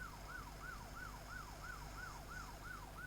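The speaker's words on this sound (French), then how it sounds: "On fait les petites sirènes." A French police car siren wails in a steady repeating up-and-down sweep, about three cycles per second, during a patrol escort, continuous and fairly distant with a faint background hum.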